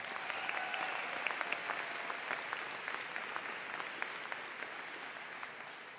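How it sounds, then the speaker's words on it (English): A commencement audience applauds the grandparents in attendance, a broad, steady wash of many hands clapping at a distance, sustained for several seconds with a few sharper individual claps standing out. "maybe we should just give a round of applause for the grandparents"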